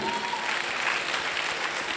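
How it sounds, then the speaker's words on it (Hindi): A hall audience claps hard and steadily at an award event honouring a company's MD and CEO. The dense, even applause lasts throughout with some crowd noise mixed in. "एक जोरदार तालियां होनी चाहिए।"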